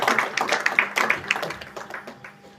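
An audience at a Red Cross Society food distribution event claps, with scattered, uneven handclaps that fade over a couple of seconds and no voices.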